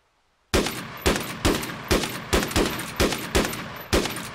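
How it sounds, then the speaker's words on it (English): Nine loud, sharp gunshots ring out in Arma 3 after a moment of silence, fired at an even, steady pace roughly every half second, each with a short echoing tail. "shots fired"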